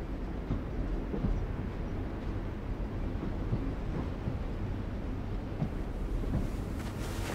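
Steady rumbling of a moving train in The Walking Dead: The Final Season video game, a continuous low roar with wind-like noise and faint clacks, heard alone without talk.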